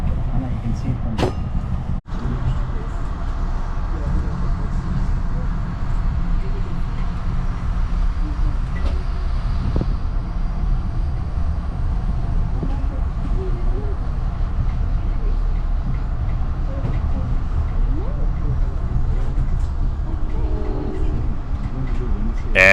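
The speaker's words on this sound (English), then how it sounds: "here we are pulling into Bellingham, the last city the train stops at on the American side" Amtrak passenger train rolling into Bellingham station on the Washington route toward Vancouver, Canada: a steady low rumble of rails and carriage noise running throughout, with a sharp knock near the start and voices murmuring faintly underneath.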